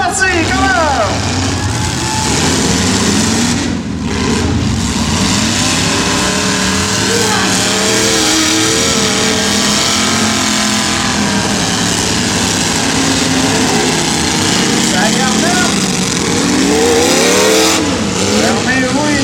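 Eight-cylinder demolition derby cars at a July event in Saint-Antonin roaring and revving together, a loud continuous engine din with rising and falling pitch, an announcer's voice booming over it.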